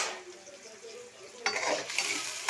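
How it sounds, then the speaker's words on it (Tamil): Onions and curry leaves fry in a pan, a low steady sizzle with light scraping and stirring, turning louder and busier partway through as the spoon works the pan, with no voices. "கருவேப்பிலை சேர்த்ததுக்கப்புறம் வெங்காயம் சேர்த்ததுக்கப்புறம் நல்லா ஃப்ரை பண்ணி விட்டுக்கோங்க."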